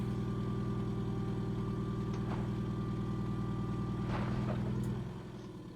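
A car engine in a video game revs steadily in first gear with a dense, droning hum that holds level, then fades near the end.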